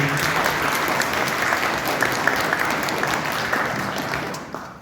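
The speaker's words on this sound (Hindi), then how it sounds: "जोरदार तालियां होनी चाहिए।" Enthusiastic clapping from the audience at a Republic Day celebration, a steady, loud wash of many hands that continues evenly for several seconds with no speech over it.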